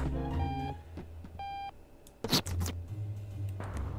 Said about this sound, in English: Turn off the alarm clock.